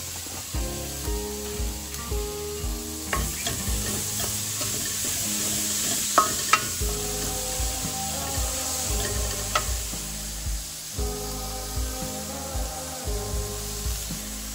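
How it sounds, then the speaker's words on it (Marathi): Onion frying in oil with a garlic-chili paste for stuffed eggplant curry, a steady sizzle broken by repeated scraping and clinking stirring strokes of a utensil against the pan, close up with no talking. "लसूण मिरचीचं ते वाटण चांगलं तेलामध्ये परतलं गेलंय। त्याच्यामध्ये हा कांदा घालते।"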